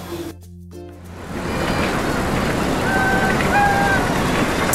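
Strong wind blowing on a seafront, a loud, continuous roaring buffeting across the microphone that builds after a brief quieter start, with faint tonal sounds briefly emerging in the background.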